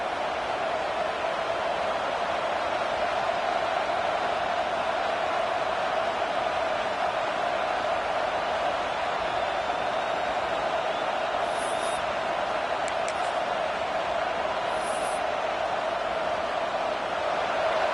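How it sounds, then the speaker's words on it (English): Football stadium crowd noise, a constant loud roar of many voices filling the stands, with a few faint high whistles or squeaks partway through. "This crowd trying to make life miserable for this offense."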